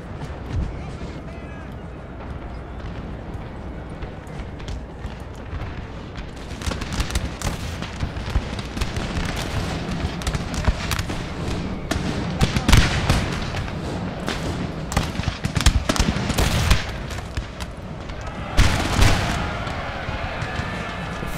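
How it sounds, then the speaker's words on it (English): Cannon artillery fire in the video game Napoleon: Total War, with repeated heavy booms over a continuous rumbling battle din, the loudest blasts bursting out in the latter half. "Let's actually engage their cannons immediately."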